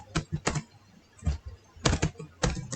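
Short bursts of keystrokes on a computer keyboard, close and clear, come in small clusters separated by quiet gaps, with no voice over them.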